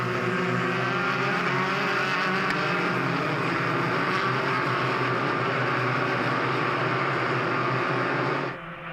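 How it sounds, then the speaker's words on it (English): Spec Racer Ford 3 race cars scream loudly down the long straight at Virginia International Raceway during the SCCA Runoffs, a sustained, dense engine roar from several cars that cuts off abruptly at the end. "Spec Racer Ford 3 is whistling down the long straight, heading toward the roller coaster."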